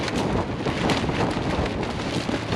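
High wind gusting around a cheap tent while stealth camping at night, a steady loud broadband roar that rises and falls in gusts throughout, with no talking.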